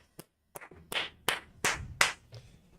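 A short run of hand claps, about seven sharp strikes that start sparse and then come at a steady beat, close and clear with no talking.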